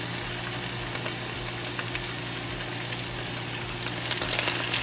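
Steaks hit hot oil in a pan for Cuban palomilla steak, giving a steady, dense sizzle with a low hum underneath and no break in the hiss.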